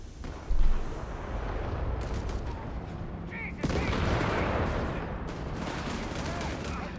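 A Pak 40 anti-tank gun fires in Company of Heroes 3, a sharp boom over a dense wash of battlefield gunfire and explosions, with a second heavy blast midway and a commentator talking over the top.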